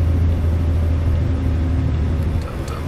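Kenworth W900 truck with a Paccar MX-11 engine in American Truck Simulator, its engine brake engaged: a steady, loud low rumble and drone that continues for about three seconds, easing slightly near the end.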